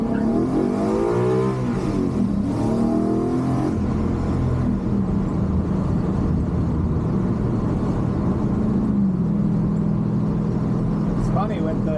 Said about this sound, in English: I'm gonna drive around just a little bit.